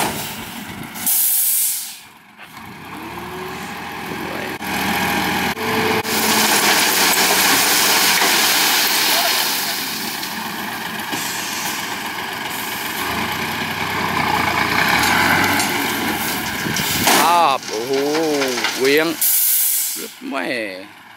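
Isuzu trailer dump truck tipping out rocks, engine running steadily with loud hissing and a rough, sustained rumble, some mechanical whines near the end.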